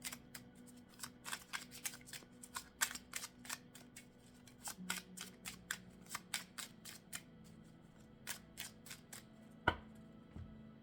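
Oracle cards being shuffled by hand, a rapid series of crisp riffling snaps in uneven bursts, close and clear with no talking.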